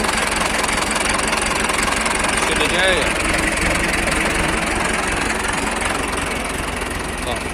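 An Ursus C-355 tractor idles nearby with a steady, loud low rumble and faint knocking throughout, while a voice speaks briefly over it.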